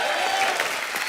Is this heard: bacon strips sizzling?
no